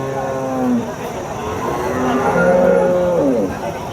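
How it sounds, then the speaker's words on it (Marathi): Jersey dairy cows low repeatedly at a rural cattle market, several long drawn-out moos close by and overlapping, over a background murmur of the crowd. "बघा मित्रांनो, गाई बघू शकता."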